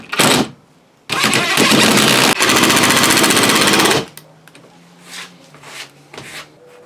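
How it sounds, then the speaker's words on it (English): A power driver sinks 2-inch wood screws to mount a Panavice mount, giving one short burst and then a long, loud, close buzzing run before it stops. "I'm using 2-inch wood screws to mount this."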